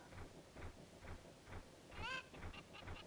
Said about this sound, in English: I'm terrified of this chicken right now.